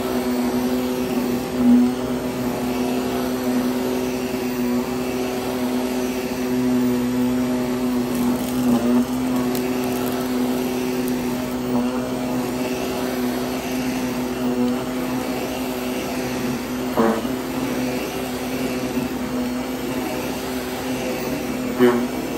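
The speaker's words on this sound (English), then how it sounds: "vacuum." A vacuum cleaner running steadily while rugs are cleaned, a continuous loud whining drone with a sustained motor hum and occasional small bumps, lasting the whole stretch.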